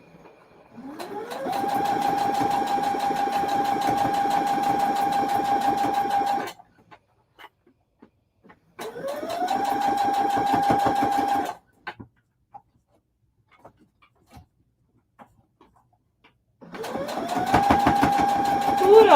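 A sewing machine stitches through thick seams on a bag in three long bursts of rapid, rattling stitching. Each run spins up at the start and is separated by short pauses, with a voice talking in the gaps.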